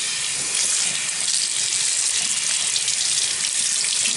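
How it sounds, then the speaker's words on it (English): Hands being rinsed under a running tap, a steady close hiss of flowing water splashing continuously at an even level, with no talking. "Next, you rinse those hands"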